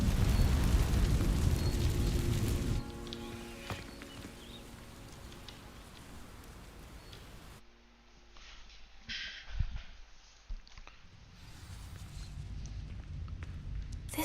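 A fire spell ignites dry vines in Hogwarts Legacy, a heavy whooshing eruption of flame at the start that fades into a low crackle and ambient rumble.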